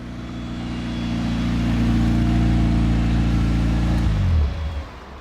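A Caterham sports car's engine holds a loud, steady drone that builds, then drops sharply as the driver brakes and shifts down to third gear, the pitch falling away into a quieter rumble near the end.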